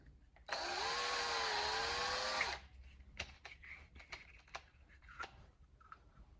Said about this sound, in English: So it's shaving out the plastic and whatever crud